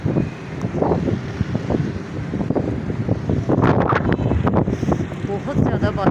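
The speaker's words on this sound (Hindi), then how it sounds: "काफ़ी तेज़ हवा चल रही थी और बादल बहुत ज़्यादा थे।" Strong wind roars and buffets the microphone throughout, gusting unevenly, with faint muffled sounds underneath.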